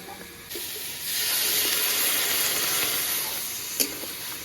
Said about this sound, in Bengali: বরবটি সিমটা ভাজা হয়ে গেছে এবার পরিমাণ মতো জল দিয়ে দেবো